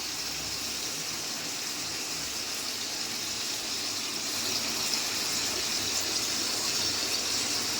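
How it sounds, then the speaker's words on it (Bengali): Ginger juice poured into chicken in a cooking pot, heard as a steady, hissing gush of liquid that runs unbroken and fairly close, with no talking. "প্রথমে আমি এখানে আদার রসটা দেবো।"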